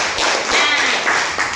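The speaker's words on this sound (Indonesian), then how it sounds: "Tepuk tangan untuk kita semuanya." A classroom of young pupils claps hands together in a short burst of clapping, close and loud, with some voices mixed in.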